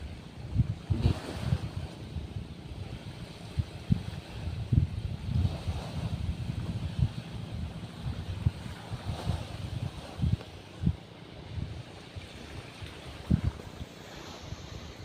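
Sea surf washing onto a shore with black rocks after days of flooding, a steady broadband wash with repeated low thumping swells and strong wind buffeting the microphone throughout.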